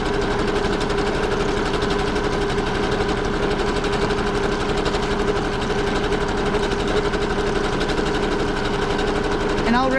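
Sewing machine running steadily while stitching a decorative flowery pattern through paper laid over fabric, a continuous close mechanical whir and rapid needle chatter throughout, with a voice speaking over it.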